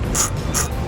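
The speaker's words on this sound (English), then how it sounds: "I'm going to be using a 11mm socket" A ratchet wrench with an 11mm socket loosens body-bolt nuts on the heat shield of a 2017 Jeep Patriot during a trailer hitch installation. It gives three short, close bursts of rapid clicking separated by brief pauses.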